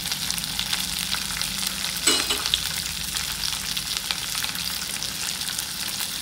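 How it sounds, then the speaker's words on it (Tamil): Onion, garlic, curry leaves and red chilli frying in a pan for chutney, a close, steady sizzle with brief stirring sounds, no talk. "எல்லாத்தையும் சேர்த்து நல்லா ஃப்ரை பண்ணலாம்."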